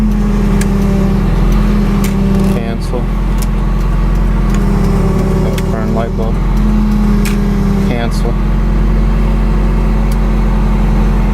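A 1998 Spyder GS-T car engine idles steadily and close by, a continuous loud hum with brief dips and clicks at intervals.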